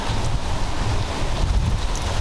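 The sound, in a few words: strong wind during Hurricane Ian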